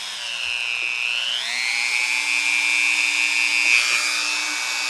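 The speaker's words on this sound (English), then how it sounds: "I can use this disc by making a cut in this piece of metal right here" A Dremel 300 rotary tool running at speed 6 with a cutting disc slices into a piece of metal, giving a steady high-pitched whine that dips as the disc bites, then holds a sustained gritty scream, close and loud with no talking.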